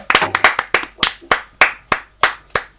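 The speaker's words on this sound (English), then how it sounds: "He missed all the clapping." A few people clap in short uneven bursts that settle into a steady rhythm of single loud, close claps, with no talk over them.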